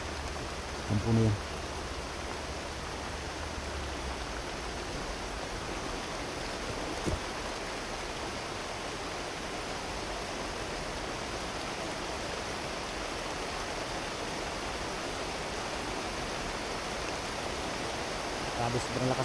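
A dense, unbroken wash of heavy rain near a camp fills the scene, with a brief thump near the start and a faint tick midway.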